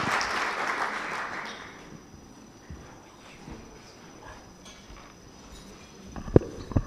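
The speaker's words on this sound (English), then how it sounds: "Let's welcome him with a round of applause." Applause from an audience welcoming a speaker at a national political launch event in Kenya, a full burst of clapping that fades out after a second or two, leaving a quiet room with a few scattered sounds.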